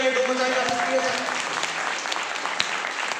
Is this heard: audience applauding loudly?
yes